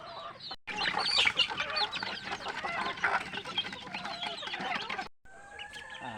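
A flock of farm chickens clucks and squawks busily close by, a dense overlapping chorus with brief cuts near the start and end.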